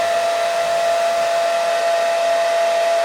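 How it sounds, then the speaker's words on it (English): A hair dryer blows steadily on special effects makeup, a loud, continuous whooshing hiss with a high whining tone, close and unbroken, with no voices. "I think what I'm going to do now is give it a blow dry again to dry it off."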